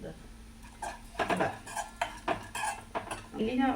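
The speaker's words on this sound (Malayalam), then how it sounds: "നന്നായിട്ട് ഇളക്കി കൊടുക്കാം." Chili powder being stirred into sambar in a pan with toasted coconut: a spoon scrapes and clinks against the metal in irregular strokes, close and moderately loud, with a soft steady hum underneath.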